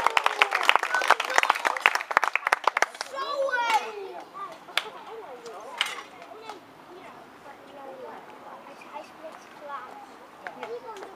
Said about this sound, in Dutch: Een applaus voor Sascha.